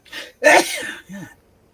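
A single forceful sneeze bursts out after a short breathy intake, followed by a brief throaty exhale, close and loud.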